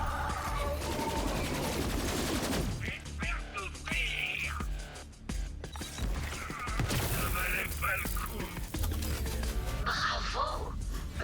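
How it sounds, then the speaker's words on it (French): Special weapon gunfire in the video game Borderlands 3, bursts of rapid shooting and mechanical clatter mixed with game effects, loud and dense throughout, with players talking over it. "C'est le moment d'utiliser l'arme spéciale."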